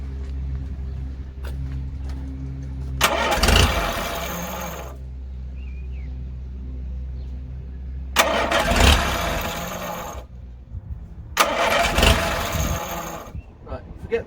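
A car engine with the distributor loosened is cranked three times in bursts, each a loud churning roar lasting a few seconds with gaps between, over a steady low idle-like drone from another running engine nearby.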